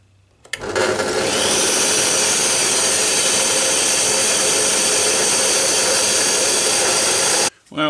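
A Forstner bit bores into a clamped piece of hard mulga wood, a loud, steady whirring grind that starts abruptly after a brief pause and holds evenly for several seconds before cutting off.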